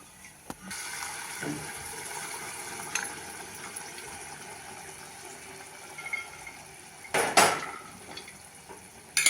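Cooked chickpeas tipped into fried, oil-glossed masala in a pan for a chana palak curry, with scattered clinks of a utensil on the pan and a brief louder clatter near the end, close and otherwise quiet.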